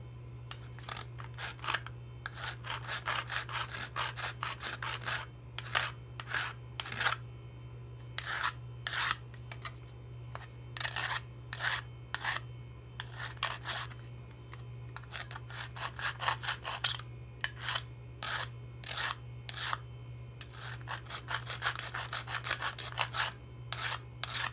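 Hand sanding with sandpaper, rapid rhythmic rasping strokes in bursts, close and steady over a constant low electrical hum, no talking.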